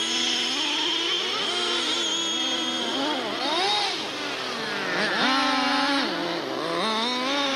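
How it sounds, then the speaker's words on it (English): Model racing cars corner on a track, their high-pitched engines whining in loud overlapping sweeps that dip as they brake into a bend and climb again as they accelerate out. "Watch the first 3 cars head into the next bend, too tight."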